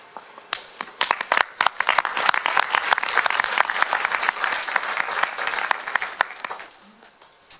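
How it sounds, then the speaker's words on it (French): Audience applause at a town public meeting on city safety, sustained dense clapping from a room full of people, steady and fairly close throughout. "Bonsoir et merci pour ces applaudissements."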